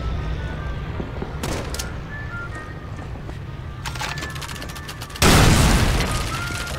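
A grenade detonates with a sudden loud boom late in a World War II battle scene at Saint-Lô, France in Call of Duty 3, preceded by distant scattered gunfire and rumbling ambience, its blast tail slowly fading.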